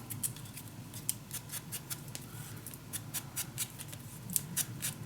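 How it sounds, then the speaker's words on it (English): Scissors snip through paper being trimmed for a Sweet Provence scrapbook mini album, a steady run of short, crisp cuts close by in a quiet room with no talking. "let me first cut this just a little smaller"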